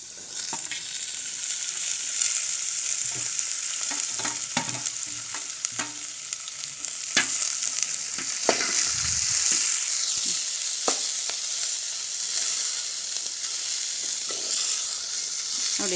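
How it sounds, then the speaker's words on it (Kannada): Cabbage and peas fry in a pan for a cabbage masala curry, giving a close, steady sizzle throughout with scattered clicks and scrapes of stirring. "ನೋಡಿ, ಚೆನ್ನಾಗಿ ಫ್ರೈ ಆಗ್ತಾಯಿದೆ"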